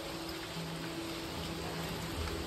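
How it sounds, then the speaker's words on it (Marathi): Heavy monsoon rain falls in the Konkan, a faint, even, continuous hiss of downpour with no voices. "आज आहे जोरात पाऊस, भरपूर पाणी सुटलंय"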